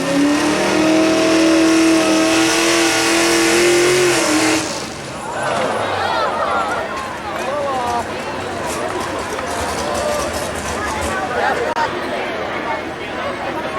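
A tractor-pull tractor engine roars with rising revs for several seconds, then drops away into crowd chatter and rumbling motor noise that continues in the background.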